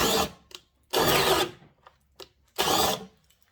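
A Bauer hammer drill on speed 2 with a 1.5 amp-hour battery bores into wood in three loud bursts, each about half a second long, separated by short pauses with faint clicks.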